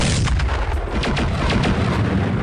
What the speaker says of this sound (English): Bellerose fires both his autocannon and pulse laser at Dewana